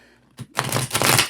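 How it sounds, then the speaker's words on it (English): A deck of tarot cards is shuffled close by, a soft brief tap and then a dense, crisp riffling flutter that lasts under a second. "One more shuffle here."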